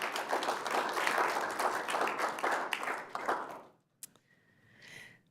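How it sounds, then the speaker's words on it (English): People at a city council meeting give a round of applause, moderately loud clapping with distinct individual claps that stops abruptly after about four seconds and leaves a quieter room with faint noise. "let's give her a round of applause"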